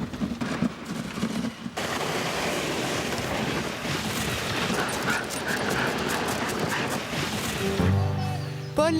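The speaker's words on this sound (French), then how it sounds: "quand les chiens sont en pleine forme, voilà ce que ça donne" Sled dogs in training for harness work bark and yip in a noisy, overlapping outdoor chorus, with a sharper burst of close yelps near the end.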